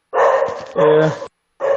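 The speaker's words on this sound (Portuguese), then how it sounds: "O cachorro até gostou" Dog barking in a few loud, close bursts separated by short pauses, with talk nearby.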